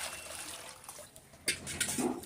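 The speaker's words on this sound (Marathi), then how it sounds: "या चोथ्यामध्ये पुन्हा पाणी टाकायचं आहे." Water poured into a bowl of washed jowar pulp left after straining, a brief soft splash and trickle, fairly quiet and close, with no talk.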